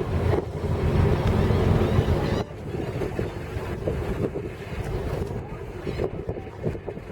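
Motor yacht engine running in reverse gear while casting off toward a canal slip, a loud steady low rumble with wind buffeting the microphone, dropping slightly in level partway through as water and wind noise continue.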